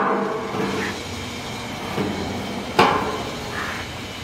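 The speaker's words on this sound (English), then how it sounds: "here we got a little FLC Rollformer. Single phase." A small single-phase FLC 9-station rollformer runs steadily, forming a light-duty roofing panel with one-and-a-half-inch legs and a ribbed center, its rumble punctuated by a sharp metallic clank near the end, with no talking.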